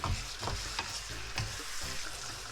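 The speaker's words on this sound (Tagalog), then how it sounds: "Yan, iba-brown lang natin yung ating chicken." Chicken browning in a pan for a chicken with liver spread dish, a steady close sizzle with several scraping stirs of the pieces throughout.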